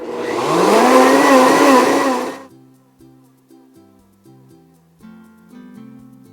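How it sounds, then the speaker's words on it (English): A loud blender whirs for about two seconds then cuts off abruptly, followed by quiet low tones and soft background sounds. "And then I'm going to pulse it in the blender."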